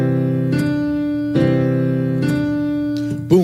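A piano plays a short practice exercise with one more note added, four sustained strikes ringing close and clear, the last one sliding oddly at the end, with no speech.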